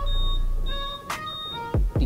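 Steady electronic beeping tones with short chirps from a motorcycle smart key alarm, close and clear, repeating over a low background hum.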